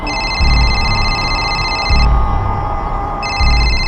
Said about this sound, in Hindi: भाभी जी का फोन है, सलाम बोलिए हमारा।